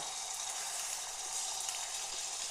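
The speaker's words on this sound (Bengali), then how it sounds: "কড়াই বসিয়ে দিয়েছি এই যে তেলটা তো লঙ্কা ভেজেছিলাম সেই তেলের মধ্যেই এবার আমি দিয়ে দেবো দেখুন এক চা চামচের এক চামচ আদা বাটা" Ginger paste hits hot chili-infused oil in a wok, giving a steady, close hiss of frying that holds evenly throughout with no talking.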